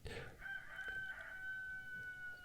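Roosters crowing at a house, a long drawn-out crow rising and holding, fairly faint and distant, with no talk over it.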